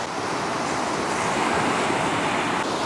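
Sea waves wash steadily onto the shore by the sea near Chanthaburi, a continuous broad rushing surf mixed with wind buffeting the microphone, with no voices.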